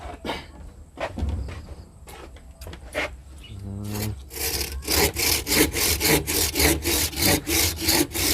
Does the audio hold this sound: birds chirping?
no